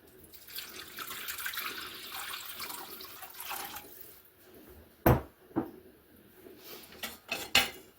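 Warm tap water runs for a few seconds as it is measured out for pizza dough, then several sharp clinks and knocks of dishes and utensils follow in a home kitchen.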